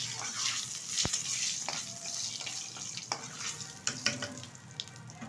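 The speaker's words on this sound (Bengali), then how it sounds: "এখন এই তেলে দিয়ে দেবো দুটো তেজপাতা কিছুটা গোটা জিরে আর একটা শুকনো লঙ্কা ফোড়নটা ভালোভাবে ভেজে নেব" Bay leaves, whole cumin and a dried chili frying in hot oil for a fish curry, a faint crackling sizzle with occasional sharp pops and light clinks, heard alone up close.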